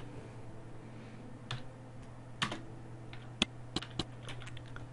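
Sparse typing on a computer keyboard during Photoshop work, with a few separate clicks and key taps scattered over a quiet background hum.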